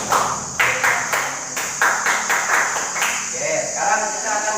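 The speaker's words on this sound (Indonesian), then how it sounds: "Kita tepuk pramuka semuanya, bisa tepuk pramuka?" A primary school class in a classroom performs the Indonesian scout clap, a rhythmic series of sharp group hand claps in a steady beat, with voices chanting along.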